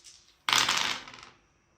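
Dice rolled during a Kill Team tabletop wargame between Genestealer Cult and Adepta Sororitas armies make a single sharp, close clattering burst that rattles briefly and fades within about a second, with no talk over it.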